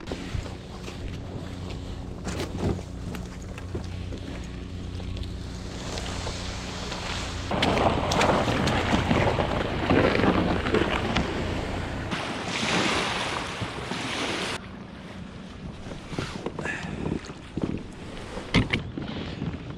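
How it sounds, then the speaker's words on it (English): A kayak moves across open water among islands, with sloshing and splashing near the hull, a surging wash of waves and wind noise, rising louder midway before settling. "hop back in the kayak and head to another island"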